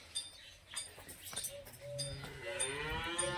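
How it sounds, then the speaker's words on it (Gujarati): A farm buffalo lets out a drawn-out, wavering moo that rises and swells toward the end of the call, heard fairly close over quiet outdoor background noise. "એક ભેંસ અહીંયા છે"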